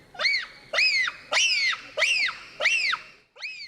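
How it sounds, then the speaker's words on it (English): Bonobos give a run of six shrill, high-pitched screeches in a steady rhythm, each one rising and then falling. The calls are loud and close, with no talk over them. "Those high-pitched screeches are a sophisticated form of communication"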